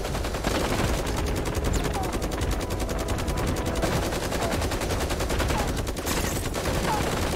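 Rapid gunfire from the mobile battle royale game Super Mecha Champions rattles on continuously, loud and dense, with mech combat noise layered in and no clear pauses.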